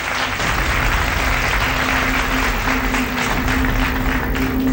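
A studio audience on a TV business show applauds to welcome a guest, a dense, even wash of clapping that stays loud and steady throughout with a low hum beneath it.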